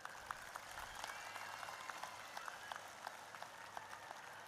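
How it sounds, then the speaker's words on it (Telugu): Audience at a political rally applauds, a steady, fairly faint wash of clapping running throughout with no voices over it. "ఒక్కసారి చెవులు పగేటట్టు చప్పట్లు కొట్టండి మరి."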